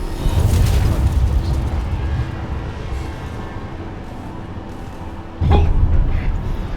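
Aftershocks shake a failing futuristic space station in the sci-fi game Pragmata, heard as a loud, continuous low rumble with a sudden heavier burst near the end.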